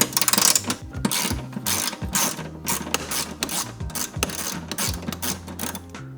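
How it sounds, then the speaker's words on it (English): A ratchet clicks in quick repeated bursts as a 10 mm ground bolt is undone during a Raptor light install on a Toyota, each burst loud and close, with brief pauses between strokes and no talking. "this ground bolt here is just a 10 millimeter, so I'll go ahead and undo that"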